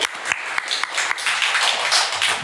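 An audience in Indonesia claps at a talk about Papua, scattered sharp claps swelling into a fuller burst of applause, fairly close.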